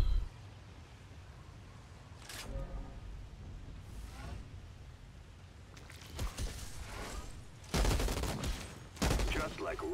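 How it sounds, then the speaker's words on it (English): Gunfire from the shooter game Outriders, heard as scattered bursts of shots that come in clusters, louder toward the end, over a low rumbling background with some talk. "You get a nice amount of shots before you have to reload."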